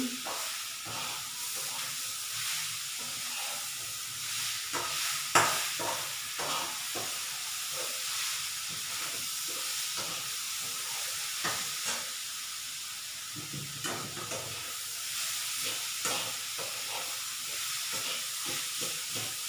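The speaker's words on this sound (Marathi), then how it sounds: "थोडं मंद गॅसवर परतून घ्यायचं गूळ टाकून" Grated fresh coconut and jaggery roasting in a pan over low heat, a soft continuous hiss and sizzle with scattered light scraping from stirring, no voices.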